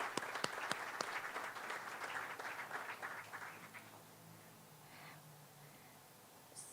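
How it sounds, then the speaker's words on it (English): Crowd applauding outdoors at a groundbreaking ceremony for a Bezos Academy school in Louisville, with sharp scattered claps over steady clapping that fades out after about four seconds, leaving quiet ambience. "So please, everyone give each other a round of applause."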